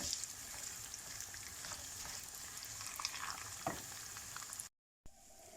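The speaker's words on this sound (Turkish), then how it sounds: "Pembeleşinceye kadar kavuracağım şehriyeyi." Vermicelli roasts with chunks of meat in a pan, giving a steady, soft sizzle with faint stirring scrapes throughout, then a brief cut to silence just before the end.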